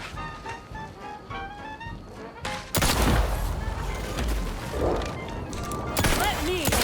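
Gunshots in The Outer Worlds 2 video game, a sudden loud burst of gunfire followed by another sharp shot, heard under a person talking.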